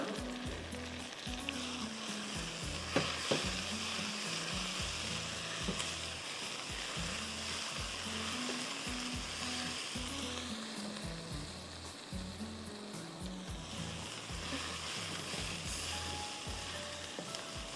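Steady sizzling and crackling of garlic frying in a hot pan, with occasional stirring scrapes, close and continuous without talking.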